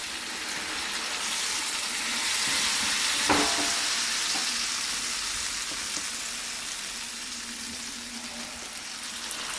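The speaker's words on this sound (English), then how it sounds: "add the akara to the hot oil bit by bit" Akara bean fritters frying in hot oil: a dense, steady sizzle throughout, with a single sharp clink and a few soft knocks as more batter goes in.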